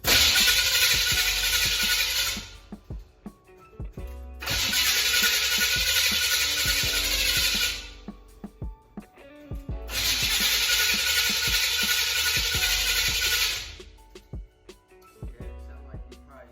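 A cammed 350 small-block Chevy V8 in an El Camino is cranked and fired in three loud, sustained bursts separated by short pauses, heard close up.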